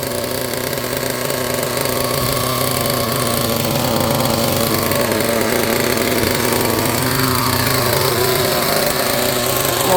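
A Team Associated MGT RC monster truck's small nitro engine running in a steady, loud, high-pitched buzz that stays close and even from start to finish, with no voices over it.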